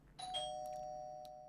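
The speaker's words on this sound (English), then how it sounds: "That's my doorbell." An electronic doorbell chime at home rings once, two clear tones in quick succession that ring out and fade, heard quietly and alone.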